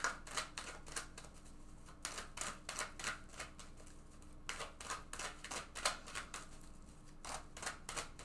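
Tarot cards drawn from a deck and handled, a close series of quick crisp snaps and flicks in uneven bursts, fairly quiet with no talking.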